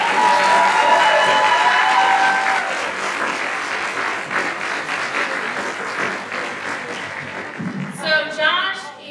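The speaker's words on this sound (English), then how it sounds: "Everybody give Carrie a round of applause" An audience at a theater performance claps in sustained applause that fades over several seconds, with some cheering mixed in and a voice briefly speaking near the end.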